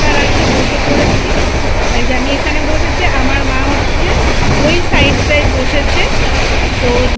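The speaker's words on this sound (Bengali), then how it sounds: "তারপরে আমাদের ট্রেন এসছে ট্রেনে উঠে গেছি" A moving train rumbles steadily with rhythmic clatter throughout, with faint voices in the background.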